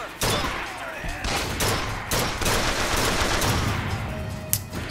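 Rapid gunfire in the video game Bioshock Infinite, repeated bursts and shots crackling in quick succession, loud and close, with brief gaps between volleys.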